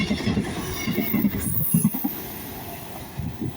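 A pair of coupled Class 221 diesel trains on a cross-country service passing at Teignmouth, a continuous fairly close rumble and clatter with fluctuating wheel noise throughout.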